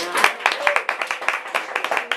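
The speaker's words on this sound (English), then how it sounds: "Can we get one more round of applause for our wonderful authors?" A small audience at a book event for authors Mylo Choy and Rina Ayuyang claps in a brisk round of applause, individual hand claps distinct and rhythmic at close range.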